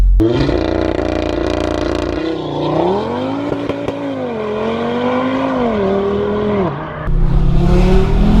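A 2018 Audi RS3 with 510 BHP accelerating hard, its loud engine note rising and falling through gears with a brief drop at a shift, heard close from inside the car.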